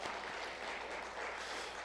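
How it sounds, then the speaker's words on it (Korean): A church congregation claps together in a brief, dense burst of applause at a steady level. "우리 함께 박수를 보내드리도록 하겠습니다"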